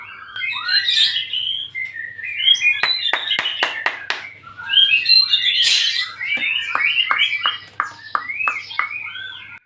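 A white-rumped shama sings varied, rich whistles and chattering phrases up close, with sharp clicking notes mixed in and a faint low hum behind.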